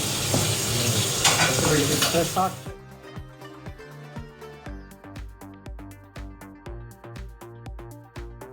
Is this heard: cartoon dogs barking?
no